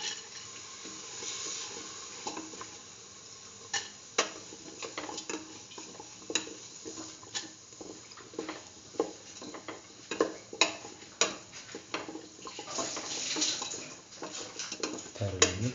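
Lentils being stirred into pumpkin stew in a pot, with a spoon scraping and clinking against the pot in irregular close taps and a faint simmering hiss underneath.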